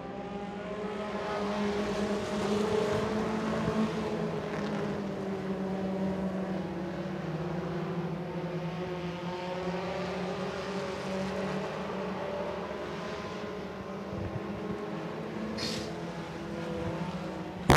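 Race cars at Senoia Raceway, a dirt oval, roar steadily as several engines drone and rise and fall in pitch while the pack circles, loud and continuous from start to finish.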